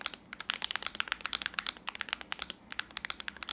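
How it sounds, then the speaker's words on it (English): Keys on an ASUS keyboard with second-generation HFX V2 lubed switches being pressed rapidly, a dense run of close clacking keystrokes with a rattly, loose edge, alone without talk. "While this second generation switch it's still smooth because it's lubed out of the box, but it rattles."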